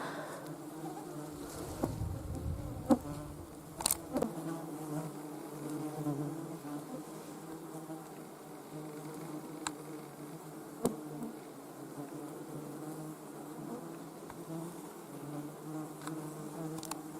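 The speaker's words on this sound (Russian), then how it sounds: "Оводы жужжат." Horseflies buzzing in an open summer meadow, a faint, wavering drone with a couple of louder passes close by and some brief ticks, with no voices.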